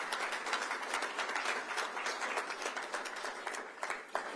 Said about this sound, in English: So please give a round of applause to our panelists for joining us today.